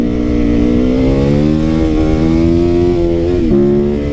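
A parallel twin motorcycle engine runs loud and close, its exhaust note rising and falling in a steady drone with a short dip near the end, with no talk over it.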